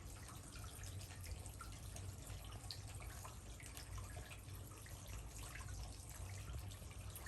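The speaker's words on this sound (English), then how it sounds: "The water is still appearing after all this time." Water from an old Napoleonic-era structure runs in a faint, steady trickling wash with scattered drips, continuous and quiet, without talk.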